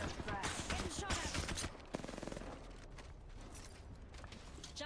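Rapid automatic gunfire from Apex Legends clatters densely for the first second and a half. Sparser mechanical clicks and pops follow under a continuous game background, with a voice speaking faintly throughout.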